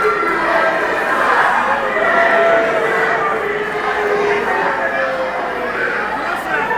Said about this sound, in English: The crowd chanting JP sucks.